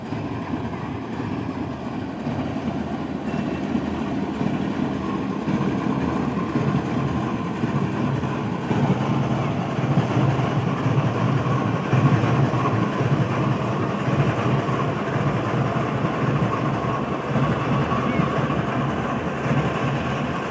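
A loaded coal train arrives on an Indian Railways main line, its steady rumble and wheel clatter continuing at a fairly even level throughout, with faint voices in the background.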